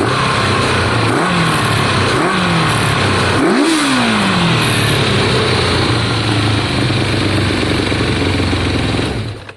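Kawasaki ZL600 motorcycle engine idling steadily close by, with three quick throttle blips rising and falling in pitch, the last the strongest, running alone without talk.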